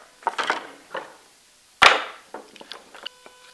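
A chisel chops waste wood out of a joint in 19th-century carpentry work, with several sharp wooden knocks and one loud struck blow in the middle, close and alone.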